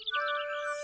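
A short, high cartoon bird chirp with a thin whistling tone, heard alone and brief.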